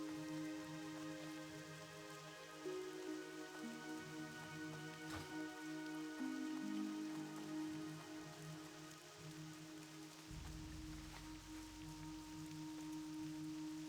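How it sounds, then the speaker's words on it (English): Steady rain in World of Warcraft Classic, a continuous soft patter under game ambience and low tonal music, with no voices and a brief low thump shifting the mix near the end. "Get out of the rain here"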